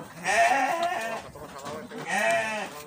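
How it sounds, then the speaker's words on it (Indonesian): Four Garut sheep of the fighting or contest type bleat from inside a shipping enclosure, with two long, wavering calls heard close and loud one after the other. "di dalamnya sudah ada 4 ekor domba Garut jenis aduan atau jenis kontes ya"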